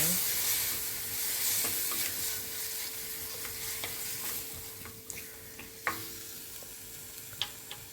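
Chopped tomatoes for a simple vegetable biryani being mixed in a hot pan, with a steady, bright sizzle throughout and occasional spoon taps and scrapes toward the end, close by, with no talking.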